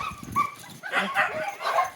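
A dog whimpers and yips in short, high, plaintive bursts, close by, over about two seconds.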